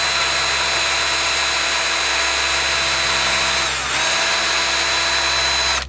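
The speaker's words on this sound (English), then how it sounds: "I'm just going to drill down into this piece of holly" A power drill whines steadily and loudly as it bores into wet green holly wood, with a brief dip in pitch midway before running on and cutting off at the end.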